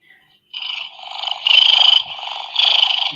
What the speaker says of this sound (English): And then the purr.